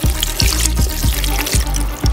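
Chicken broth pours into a blender for red enchilada sauce, a loud, steady splashing trickle with brief repeated surges, up close and with no talk.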